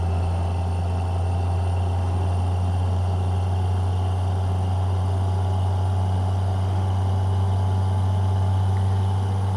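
A steady, droning truck engine from a paid truck mod in a video game hums at constant idle-like pitch throughout, loud and unbroken with no talk.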